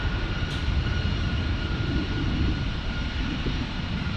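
A passenger jet in a special livery roars steadily at San Diego airport, a loud, continuous broadband engine noise holding for several seconds with no voices over it.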